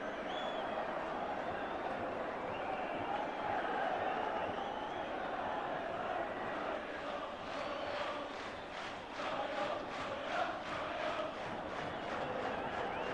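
A football crowd at a 1983 Wolves versus Crystal Palace Division 2 match roars and chants "going up" in a sustained wash of voices, with rhythmic chanting pulses building toward the end.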